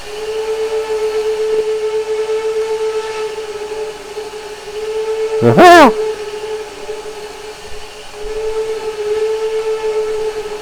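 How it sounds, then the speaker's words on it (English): A simulated NP S-10 4-6-0 steam locomotive whistle in Trainz 2019 sounds one loud, short blast midway, rising sharply and then cutting off over a steady tonal hum. "It's not a bad sounding whistle"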